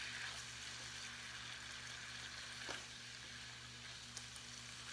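Ground beef fries in a pan, giving off a steady, faint sizzle with a low background hum and occasional small pops, with no voices over it.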